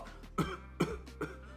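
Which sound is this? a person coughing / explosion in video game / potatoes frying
a person coughing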